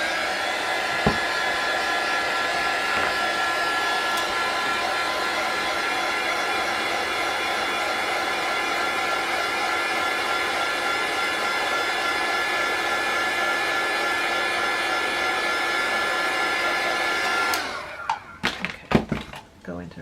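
A hair dryer blows steadily on hair, a loud close whine with a constant pitch lasting about seventeen seconds before it cuts off into a few handling knocks and clicks.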